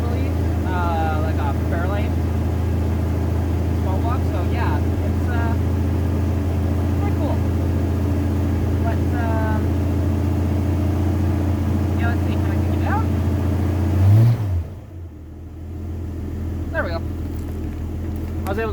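A Ford Mustang with a new exhaust and a carbureted 289 small block idles cold with a loud, steady low rumble, then dips and falls quieter near the end while a person talks over it.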